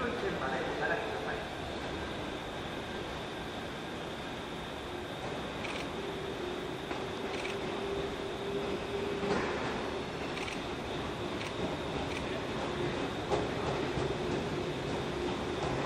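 A train rumbles in at Nagaoka Station, Japan, amid a continuous low roar, with Japanese public address announcements for platform 3 and faint tones sounding over the noise.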